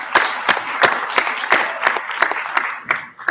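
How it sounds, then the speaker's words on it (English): Audience applause at a clean energy prize summit, a moderate round of clapping with clear individual claps, fairly close and steady, trailing off near the end. "So let's give another round of applause for these terrific teams."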